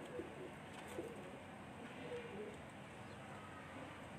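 A pigeon coos softly, a few faint low calls spread through steady background noise, with a voice speaking faintly in the background.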